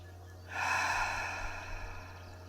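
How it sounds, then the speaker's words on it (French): A deep breath drawn in through the nose and then released through the mouth during a guided bedtime meditation, one long broadband rush that starts after a brief quiet and slowly fades, close and alone over a low steady hum. "je vous invite à prendre une grande inspiration par le nez et une grande expire par la bouche"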